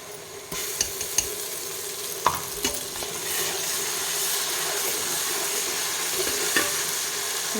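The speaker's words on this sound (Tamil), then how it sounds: "இப்போ இஞ்சி பூண்டு பேஸ்ட் வந்து நல்லா வதங்கிட்டு இருக்கு." Ginger garlic paste fries with onions in a pan for chicken kolambu, a steady close sizzle broken by scraping stirs and sharp clinks of the spoon against the pan.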